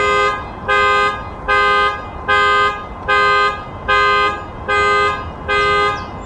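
A car alarm blares outdoors near a spot where a little green heron is feeding. It sounds in a steady cycle of seven loud, evenly spaced harmonic blasts over low background noise, with no talking.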